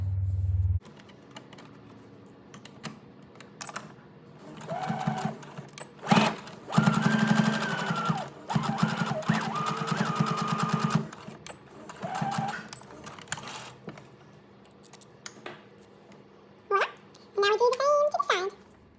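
A sewing machine stitches closely along the edge of a fabric face mask, running in several bursts with short pauses and reverse stitching, while a voice is heard nearby.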